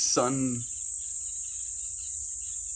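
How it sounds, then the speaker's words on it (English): Cicadas keep up a steady high-pitched drone in the background outdoors, continuous and even throughout, with a brief bird-like chirp at the very start. "I wanted to say sun beetles, but I guess you can call them cicadas as well, right? In our background today, creating some sound."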